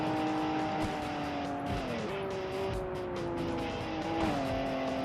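A race car engine in Wangan Midnight on PS3 holds a steady, droning throttle, its pitch stepping down a few times over several seconds with road and tire noise underneath.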